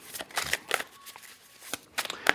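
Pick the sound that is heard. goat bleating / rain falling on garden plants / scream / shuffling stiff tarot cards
shuffling stiff tarot cards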